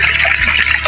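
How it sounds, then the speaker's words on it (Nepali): Water splashing and trickling at a village water source in Nepal as someone drinks from it, a loud, close, continuous splatter heard briefly. "सबसे पहिला त पानी पिउनु पऱ्यो"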